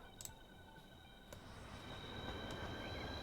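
Train running on rails in Transport Fever 2, a steady low rolling rumble with faint ticks and a thin high whine, building slightly louder over a few seconds.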